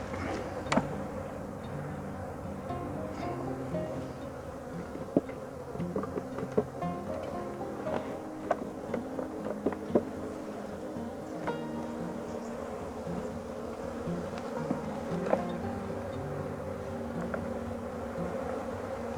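Bees buzz around a newly hived swarm being checked before wintering, a steady droning hum of many insects close by with occasional clicks and knocks, with no voices.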